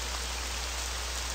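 Steady rain falls in a video game, a dense, even hiss of drops with no other sounds on top.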